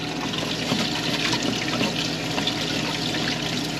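Water draining steadily out while RV water system parts are cleaned with bleach, a continuous close rushing and splashing flow.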